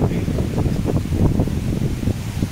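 Strong wind roars steadily outdoors on Mt. Tapyas, a continuous low rushing noise with gusty surges throughout, no voices heard.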